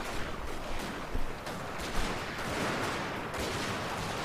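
Massed musket volleys crackle from infantry de marine in a Shogun 2: Fall of the Samurai battle, a dense continuous roar of overlapping rifle shots with a few sharper bursts standing out, loud and steady throughout.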